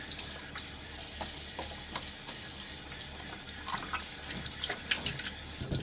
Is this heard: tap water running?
yes